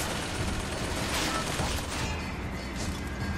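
A turret in Bioshock Infinite fires in dense rapid bursts, a continuous crackling rattle of gunfire that fills the whole stretch at a steady, moderate level.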